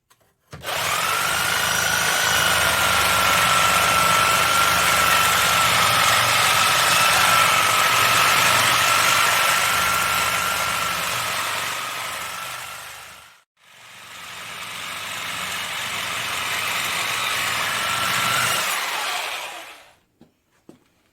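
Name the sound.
Nelson Brothers hit and miss engine running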